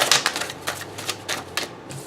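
Tarot cards shuffled by hand in a quick riffling series of papery flicks and slaps, fairly close and steady, with no talking over it.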